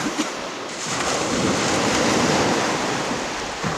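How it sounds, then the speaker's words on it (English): Surf washing steadily onto a deserted private beach of white sand and clear blue water, a continuous broad roar of breaking waves close by, with no voices. "We're on our own private beach"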